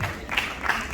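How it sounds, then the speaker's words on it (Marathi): Brief applause from an audience at a school science exhibition prize ceremony in Mumbai, a soft, even patter of clapping lasting about a second. "टाळ्या वाजत राहिल्या पाहिजे."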